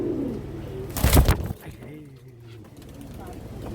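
Pigeons coo in low, repeated murmurs at a breeder's loft of Giribaz pigeons, with a brief loud burst of noise partway through and someone talking over much of it.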